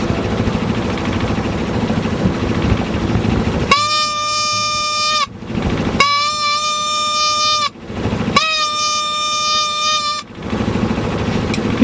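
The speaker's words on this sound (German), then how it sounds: "Das war die kleine Tröte, die wir gestern noch schnell gekauft haben in Forsvik für diese Zwecke." A small hand horn on a boat on Sweden's Göta Canal gives three loud, reedy toots, each a second or two long with short gaps, cutting through a steady background rumble.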